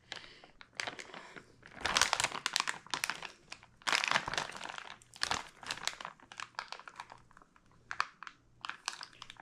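Plastic crinkles and crackles in irregular bursts, louder in a few stretches, as a zipper bag holding corned beef brine is squeezed, handled and zipped close by.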